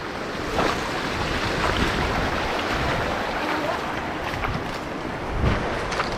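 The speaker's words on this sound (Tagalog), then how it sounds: "Ay, may alon din." Sea waves slosh and wash steadily around a small boat out at a spot on the open sea, a continuous close hiss with a couple of louder swells and wind noise.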